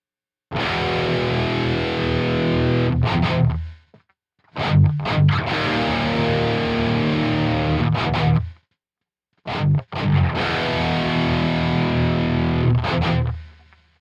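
Distorted electric guitar track played through a Marshall cabinet with V30 speakers, heavy and sustained in three loud bursts separated by short gaps, with no talking.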